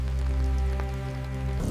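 Cold rain falling on a deserted county road beside an SUV, a steady close patter over a low sustained hum, with no voices.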